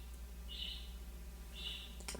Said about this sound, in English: Sorry if you guys can hear my birds.